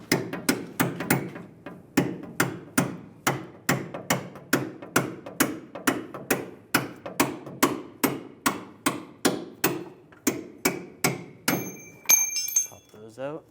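Steady, evenly spaced metal-on-metal hammer blows on a punch, driving a bolt out of a 2007-2013 Chevrolet Silverado leaf spring shackle, about twenty sharp ringing strikes close up, ending in a brief metallic rattle.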